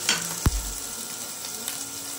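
Chopped onion hits a hot pan for mussel tinola, giving a sharp sizzle burst that settles into steady frying with a faint stir.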